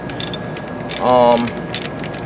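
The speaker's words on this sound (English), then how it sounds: "We're going to remove the back plug closest to your differential" A hand tool loosens the back plug on top of a brake unit, producing one short, close burst of ratcheting clicks with a few faint taps before and after.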